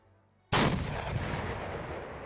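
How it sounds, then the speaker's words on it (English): Heavy mounted gun firing in a video game battle at Raate Road, bursting in abruptly and loud, then a dense, sustained roar of gunfire that continues without a break. "I'm gonna get on the pullet gun and fire a few more rounds"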